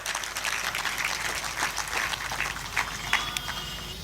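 An audience at a spiritual satsang gathering applauds, a fairly faint, steady patter of many hands clapping at some distance, continuing evenly without speech.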